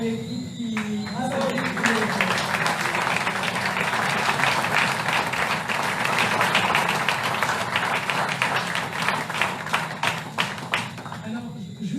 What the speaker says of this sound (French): applaudissements, oui, pour cette belle équipe